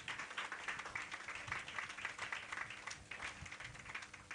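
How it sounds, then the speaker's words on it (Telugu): Congregation at a healing ministry church service applauding together, a steady dense wash of many hands clapping throughout, moderately distant and fairly quiet. "గట్టిగా చప్పట్లు కొట్టి."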